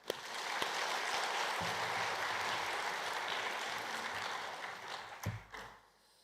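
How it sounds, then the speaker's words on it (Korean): A church congregation claps for the Immanuel choir after a hymn at a Thanksgiving Sunday service, loud sustained applause filling the hall before tapering off near the end, with a few sharp claps standing out. "우리 큰 감사의 박수 하겠습니다."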